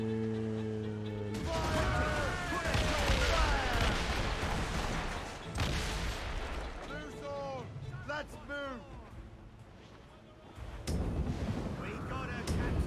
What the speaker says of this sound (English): Fucking mortars are beastly.